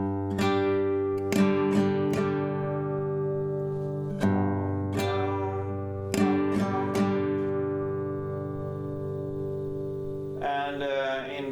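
Acoustic guitar slowly strumming a song's chord pattern, well-spaced down and up strums ringing out in an unhurried rhythm, close and clear with no voice over it.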